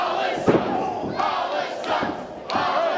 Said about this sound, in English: I think the crowd has some words for Hollis